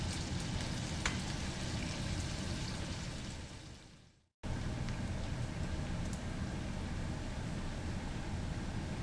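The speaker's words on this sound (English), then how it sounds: "while we're sitting here watching bacon cook" Bacon frying in a cast iron pan, a steady, dense sizzle and crackle that continues alone, cutting out briefly midway before resuming just as strongly.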